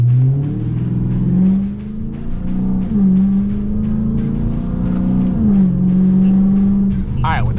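A 1000 HP Dodge Hellcat engine revs and accelerates loudly from inside the car, its pitch climbing and falling through gear changes, with a supercharger whine over a deep rumble and a brief chirp near the end.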